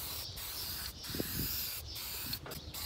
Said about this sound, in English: get your spray paint can working